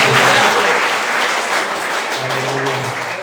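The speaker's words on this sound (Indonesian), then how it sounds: "Tepuk tangan dulu buat Tuhan." Congregation applause at a Christmas Sunday church service, a loud dense wash of many hands clapping together that carries steadily through the whole stretch and tapers slightly near the end.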